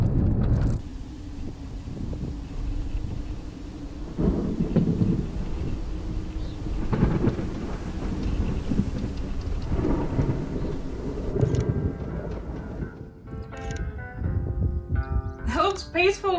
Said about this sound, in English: That's a gnarly storm.